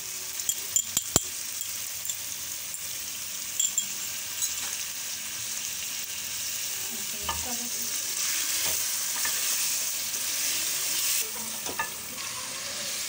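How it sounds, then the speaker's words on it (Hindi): Whisked yogurt hitting a hot karahi of chicken tikka, sizzling and frying steadily, with spoon stirring and a few sharp metallic clinks of utensil against the pan; no one speaks. "देखिए, अब हम दही को अपने कढ़ाई में डाल देते हैं।"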